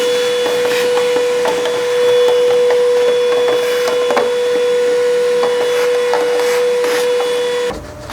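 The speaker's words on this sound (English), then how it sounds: "we'll get a vacuum cleaner just to make sure there's no debris inside the air box." A vacuum cleaner runs steadily, clearing debris from the air box of a 2005–2015 Nissan Xterra, its loud, even whine holding with a fixed tone before cutting off near the end, amid faint scraping and knocks.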